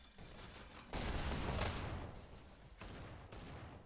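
Bursts of dual SMG fire in a competitive video game match crackle in a dense rattling stretch, then trail off into shorter quieter bursts, moderately loud.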